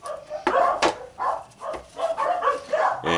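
Several dogs barking in a house, sharp irregular barks and yips heard indoors at moderate distance, with no talking over them.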